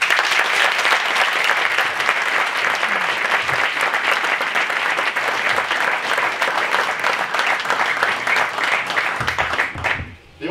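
An audience at a literary spring festival reading applauds warmly for author Jan Wagner, a dense, steady wash of clapping that carries on for about ten seconds before thinning out abruptly at the end.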